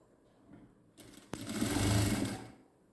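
A sewing machine stitches a churidar in one short run, starting with a click and rising to a close, loud motorized whir that holds for about a second before winding down.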